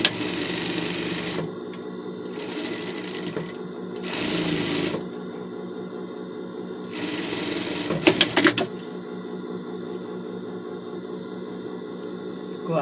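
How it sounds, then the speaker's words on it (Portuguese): Sewing machine sewing a safety seam across a child's Monsters Inc costume, a steady close mechanical hum broken by several faster, louder bursts of stitching, with a brief clatter partway through. "E vai passar uma costura aqui de fora a fora, tá? Costura de segurança e já vai prender ali, tá?"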